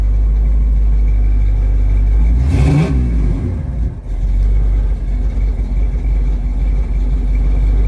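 Engine of a 1969 Buick Special Deluxe running just after a cold start at 29°F, stuck on fast idle, with a loud steady rumble and a brief rising rev surge near the middle before settling back to idle.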